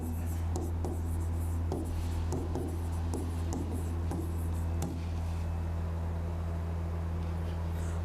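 Pen or pencil writing on paper, scratchy strokes in a steady irregular rhythm under a constant electrical hum, close and moderately quiet, with faint talk in the background.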